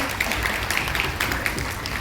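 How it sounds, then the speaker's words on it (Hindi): Loud applause welcomes the winners at a CSC BC Sakhi award ceremony, a dense, steady wash of many hands clapping close by with no break over two seconds. "सभी के लिए जोरदार तालियों से स्वागत करेंगे।"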